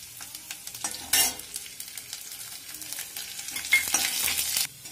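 Garlic sizzles in hot oil with browned ginger and chopped chili in a pan, a soft steady crackle broken by bursts of stirring and scraping, close and fairly quiet with no voices.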